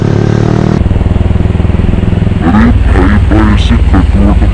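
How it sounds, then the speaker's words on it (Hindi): A motorcycle exhaust blares loud and close on a street, its engine revving hard in a steady, rough roar with a rising blip toward the end, while someone talks over it. "रुको भाई इसको अपने एग्जॉस्ट का साउंड सुनाता"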